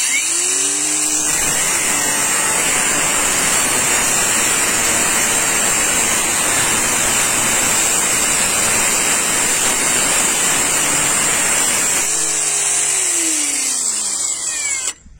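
A Parkside Performance PWSAP 20-Li C3 cordless angle grinder spins up and cuts steadily for about ten seconds, a loud close whine with gritty broadband noise, then winds down at the end.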